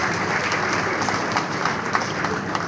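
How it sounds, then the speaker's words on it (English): A large audience at a send-forth ceremony for a former bank chief executive gives dense, continuous applause, many hands clapping together in a steady roar throughout. "I think FirstBank deserves another round of applause."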